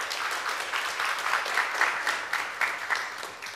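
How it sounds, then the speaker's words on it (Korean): Sustained applause from a seated audience at a Seoul panel session, dense and fairly loud, with clusters of claps swelling and easing across the whole stretch. "다시 한번 박수를 좀 보내주시죠"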